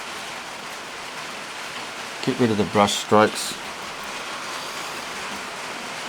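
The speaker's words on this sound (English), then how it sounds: "I don't know if you can hear that rain or not, but it's starting to rain" Rain starts to fall outside, a steady broadband hiss running evenly throughout, briefly overlaid by a person talking in the middle.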